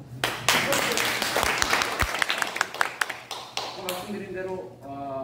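Scattered audience clapping at a youth politics forum, starting with sharp individual claps that thicken into brief applause and then fade while a voice speaks over it.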